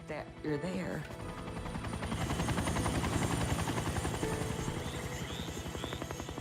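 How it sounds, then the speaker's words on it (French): A rescue helicopter approaches over a swamp at the site of a Boeing 757 crash. A steady rhythmic rotor chop swells from distant to loud, with a brief voice near the start. "j'ai enfin entendu un hélicoptère"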